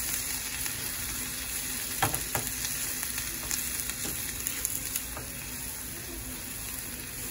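Yellow squash and corn fry in a pan with steady, close sizzling and a few sharper crackles and stirring clicks, no voices.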